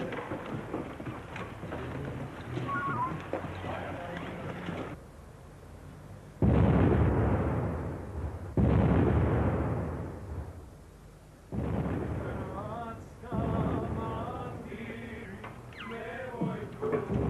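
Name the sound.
explosions set off in city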